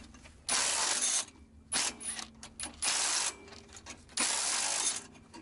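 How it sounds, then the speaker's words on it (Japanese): A car is raised with a jack driven through a homemade impact adapter, producing loud bursts of mechanical ratcheting that start and stop several times, with quieter clicks and pauses between them. "これで再びジャッキアップします。"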